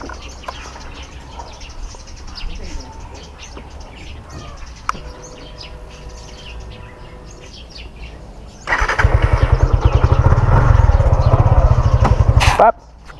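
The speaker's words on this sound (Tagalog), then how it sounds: "meron tayo ngayong iba-vlog na motor, ang Suzuki Gixxer" A Suzuki Gixxer 155 motorcycle engine starts with a sudden loud burst and settles into a steady, rhythmic close-up idle. Quieter outdoor ambience and birdsong come before it.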